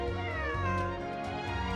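A cat in the Genshin Impact video game meows with a long, drawn-out, wavering cry, close and clear, filling the whole moment with no talk over it.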